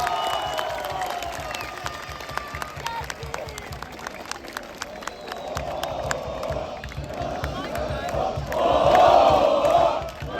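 A stadium crowd of Beşiktaş fans cheers and chants during a Turkish Cup trophy celebration as player Jonas Svensson is introduced. The roar is distant and continuous, with scattered claps, and swells louder near the end.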